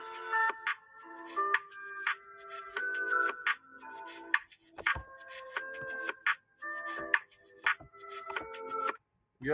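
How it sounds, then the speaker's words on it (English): A phone rings during an unanswered call, repeated electronic ringback tones in regular bursts separated by short gaps, fairly close and clear with little else around. "Battle Axe ain't answering the phone, y'all"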